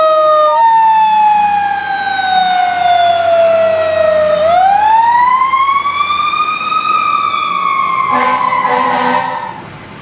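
A fire engine siren wails close and loud as the truck responds to a call, sweeping slowly down then back up in a long continuous tone, with a brief horn-like blast near the end.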